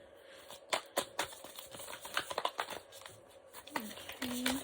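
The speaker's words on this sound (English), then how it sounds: "These cards are so difficult to shuffle." Tarot cards shuffled by hand in short, irregular bursts of riffling and clicking, close and fairly quiet, with a soft voice briefly heard near the end.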